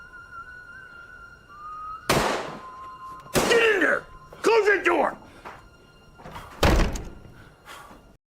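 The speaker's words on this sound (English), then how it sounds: "Close that door!" A door is slammed shut during a tense Western standoff, several sharp, loud thuds and bangs breaking through a quieter background with a steady tone, interspersed with raised voices.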